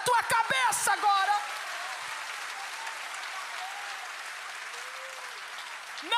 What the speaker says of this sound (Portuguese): Você pode aplaudi-lo acima da tua cabeça agora.